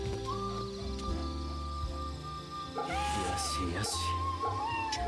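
A cat in the video game Remnant meows a few times over steady game music and ambience, with a louder cluster of calls near the end.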